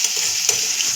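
Chicken fries in oil, giving a close, continuous crackling sizzle with a single sharper scrape of stirring midway; nobody talks.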